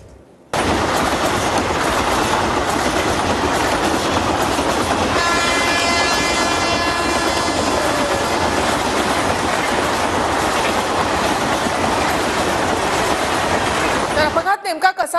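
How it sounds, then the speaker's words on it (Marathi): The Pushpak Express rumbles loudly and steadily along the rails with a clattering roll, and a sustained whining, horn-like tone rises over it midway before the sound cuts off near the end. "पुष्पक एक्सप्रेस या ठिकाणाहून जात असताना"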